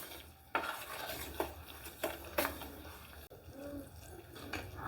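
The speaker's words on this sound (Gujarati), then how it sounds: "મેલ્ટ થાય ત્યાં સુધી આપણે મિક્સ કરીશું।" A spoon stirring jaggery as it melts in a pan, with a few sharp scraping knocks against the metal and soft, faint stirring in between, close and quiet.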